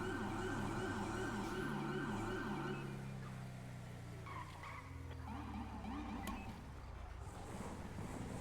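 A wailing police siren in a video game sweeps up and down continuously, joined by a second Los Santos unit siren with a different pitch pattern, all over a rumbling engine-like background.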